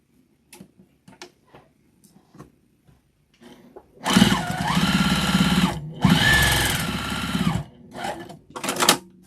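A sewing machine runs in two bursts of rapid, whirring stitching through scrap fabric for a mug rug. Quiet clicks and handling sounds come before and after the bursts.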